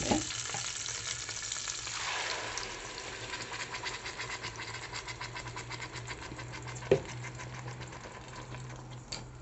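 Bones and tomato fry in a pot for Moroccan harira, a continuous close sizzle with light bubbling and one or two sharp knocks of a utensil.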